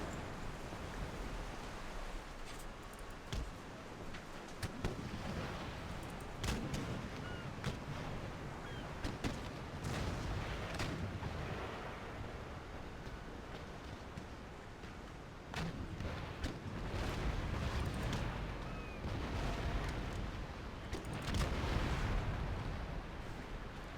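Ship cannon fire and explosions in the naval battle game Empire Total War with Darthmod, where repeated booming blasts and sharp cracks crash over a dense, continuous roar of battle noise that lasts the whole stretch.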